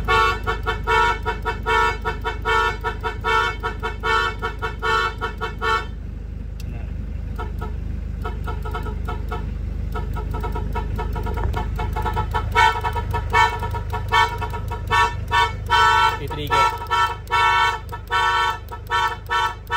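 Programmed multi-tone horn on a Hyundai Grace van, loud close bursts of a tuneful electronic horn, stopping for a few seconds, then resuming in choppy repeated melodic phrases over engine idle.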